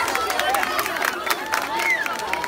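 Wedding guests at a bride and groom dance clap together, a crowd applauding and cheering at moderate volume with a bright melody playing through it.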